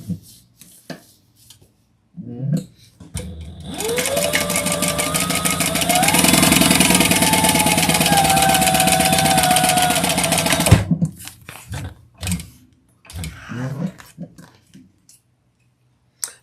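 A sewing machine top stitching along the top edge runs steadily for about seven seconds with a close, loud, even mechanical whir and rapid needle rattle, framed by brief talk and handling noises before and after.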